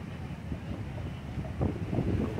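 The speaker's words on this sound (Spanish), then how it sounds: "Bastante viento, un viento muy fuerte" Strong wind gusts buffet the microphone at an outdoor football match, producing a low, rumbling, uneven roar that swells louder near the end, with no voices.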